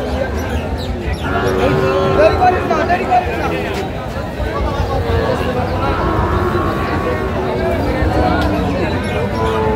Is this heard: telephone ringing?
no